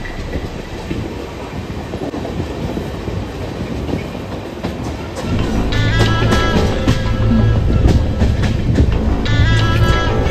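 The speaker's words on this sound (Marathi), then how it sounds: "जी ट्रेन 11:05 पोहोचणार होती ती 11:11 पोहोचले" A passenger train rolls into Pune station with a steady rumbling roar; the clatter grows louder and heavier partway through, with faint metallic squeals over the wheels.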